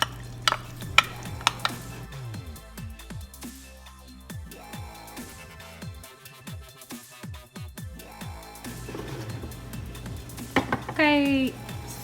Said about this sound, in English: Stir them together. Add in the tomato paste too.